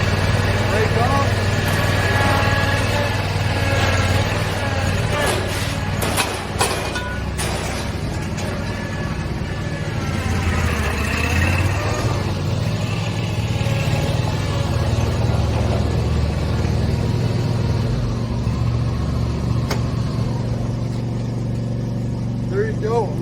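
Gravely Pro-Turn 652 zero-turn mower engine running steadily nearby, a continuous low rumbling drone with brief mechanical clatter, while people talk over it.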